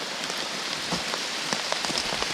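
Heavy rain pours steadily onto a surface in a dense, close hiss, with scattered sharper drops pattering through it and no voices.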